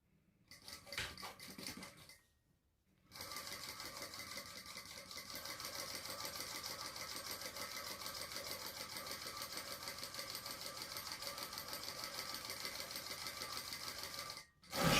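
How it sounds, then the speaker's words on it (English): A sewing machine stitches the layers of a sling bag together, a steady fast mechanical whir running continuously after a brief pause, close and loud. "we're just going to sew all that together and then flip it and top stitch"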